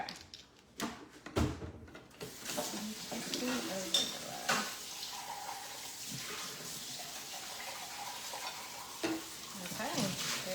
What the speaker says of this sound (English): And stir all that together